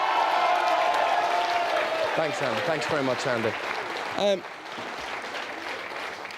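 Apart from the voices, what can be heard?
studio audience applause for Eamonn Holmes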